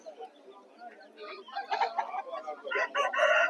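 Chickens and chicks cluck in a busy group at a market in Vijayawada, a rooster's crow rising near the end, growing louder and denser toward the close.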